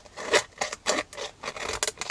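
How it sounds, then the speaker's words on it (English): Tim Holtz scissors snip through a thin recycled metal can in a quick series of crisp, close cuts, each a short scraping crunch at an uneven rhythm, with no talk. "cut through the can and everything just so easily"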